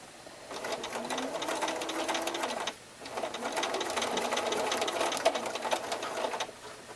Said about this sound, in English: just be extra careful sewing across that area also.